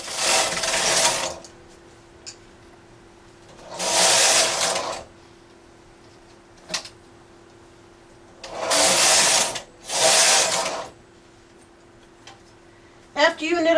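A knitting machine carriage is pushed back and forth while knitting short rows, giving four separate loud swishing, clattering passes with pauses between them and a faint steady hum underneath.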